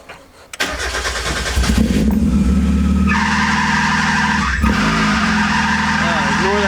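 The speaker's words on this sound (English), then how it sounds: "Really sorry about that squealing" A 1990–1993 Mazda Miata engine runs with a loose AC drive belt, giving a steady tonal squeal over the idle after a sharp start, with a voice speaking over it.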